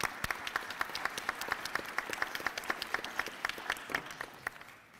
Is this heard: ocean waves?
no